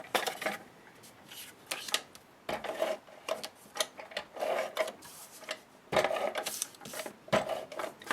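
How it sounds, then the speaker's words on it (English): ATG adhesive tape gun pressing glue strips onto mini album pages, a run of sharp clicky ratchets and tape-peeling rasps coming in quick irregular bursts, close and fairly loud. "I'm going to go ahead and use my ATG gun to adhere those down."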